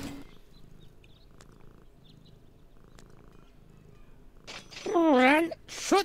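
Cat sounds in the video game Deponia: a faint background scene gives way to a loud, wavering meow near the end, close and clear.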